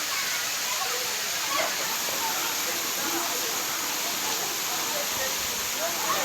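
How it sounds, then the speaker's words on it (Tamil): Jalagamparai waterfall in Tirupattur district, running high after heavy rain, gives a steady broadband rushing hiss that holds evenly throughout at moderate loudness, with faint scattered sounds mixed into the roar. "திருப்பத்தூர் மாவட்டத்தில் கனமழை காரணமாக ஜலகம்பாறை அருவியில் நீர்வரத்து அதிகரித்துள்ளது"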